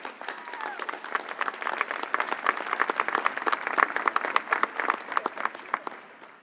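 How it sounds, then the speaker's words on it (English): A large audience at a university commencement ceremony claps steadily, sustained dense applause lasting the whole stretch without fading. "Let's give her a round of applause."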